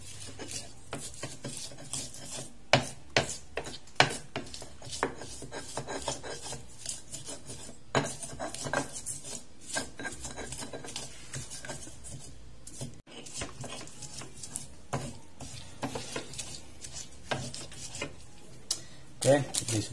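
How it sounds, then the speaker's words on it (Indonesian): Spices ground in a stone mortar and pestle (ulek) while cooking ayam taliwang, a rapid run of scraping and knocking strokes, close and irregular, with occasional louder clacks throughout. "bagian ini akan saya ulek terlebih dahulu karena uleknya kepenuhan nanti"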